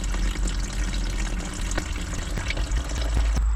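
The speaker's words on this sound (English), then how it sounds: "that is water" Water gushing out of an abandoned excavator, a constant close splashing pour with low rumbling undertone and occasional drips, loud and uninterrupted without speech.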